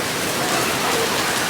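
Heavy rain pours down at a crowded theme park's Halloween event, a dense, loud, continuous hiss of drops striking surfaces close around, with no voices.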